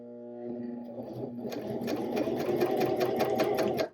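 A sewing machine stitches fold over elastic binding onto knit fabric, starting with a low hum and settling into a steady, close, rapid needle rhythm that runs on without pause.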